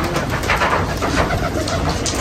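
A dense flock of red-eyed aseel pigeons cooing and fluttering close by as they are fed flour, a continuous busy chorus.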